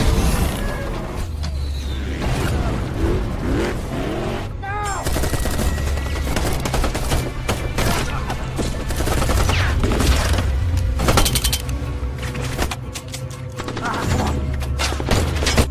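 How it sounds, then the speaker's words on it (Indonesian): Intense film shootout between a band of survivors and an extremist group, with continuous loud bursts of automatic and single-shot gunfire, rapid cracks layered over a dense rumble of battle noise. "Baku tembak pun tak terelakkan."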